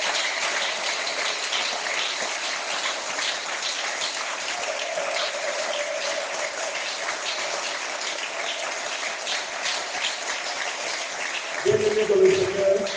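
A church congregation at a Friday evening service in Dolisie applauds and cheers steadily in praise, a continuous, even wash of clapping that holds throughout, with a voice rising briefly near the end.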